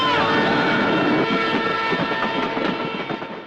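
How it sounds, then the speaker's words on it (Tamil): A train passes in a Tamil action thriller film, a loud, steady rolling rumble with rattling wagons that slowly fades over a few seconds. "Train pass ஆயிருக்கலாம்."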